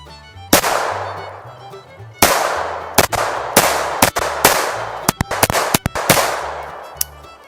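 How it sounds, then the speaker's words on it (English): Around ten sharp, loud .22 Long Rifle gunshots ring out in an uneven sequence, some spaced seconds apart and others in quick pairs, each with a short echoing decay. "I'm gonna hit them with a 22 long rifle too,"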